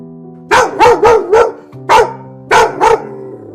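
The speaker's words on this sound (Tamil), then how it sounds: "நாய் மனிதனுக்கு மிகவும் நெருக்கமான மற்றும் விசுவாசமான செல்ல பிராணி." Dog barking loudly and close: seven sharp barks, four in a quick burst, then one alone, then a final pair, with silence between.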